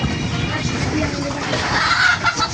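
Chickens cluck over a steady, dense background of farmyard noise, with constant low chatter of many birds throughout.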